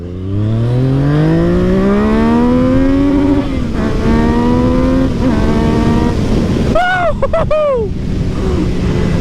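A Yamaha MT-09 motorcycle with traction control off, in standard mode, accelerating hard. Its engine note rises steadily through the revs, then a quick gear change or two follows, all loud and close under heavy wind rush.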